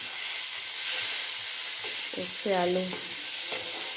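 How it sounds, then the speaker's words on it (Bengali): Bitter gourd leaves and potatoes frying in a little oil give a steady close sizzle and hiss, with a brief stirring scrape in the middle and a sharp clink near the end. "উচ্ছে পাতা আলু ভাজা"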